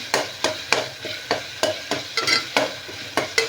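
Tomatoes stirred in a pot for chicken cooker dum biryani, with regular scraping strokes about every third of a second over a soft sizzle, close and fairly loud.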